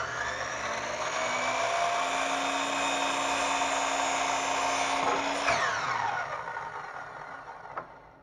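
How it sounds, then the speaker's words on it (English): Power saw cutting a 2x2 wooden board to a 92-inch length, a loud steady high whine running for several seconds before the blade winds down, ending with a brief knock. "we take the 2x2 and we're going to cut to length"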